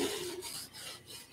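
Sandpaper rasps steadily against an accordion part during a repair, a close, continuous scratchy rubbing with slight pulses as the strokes change, heard alone without any talking.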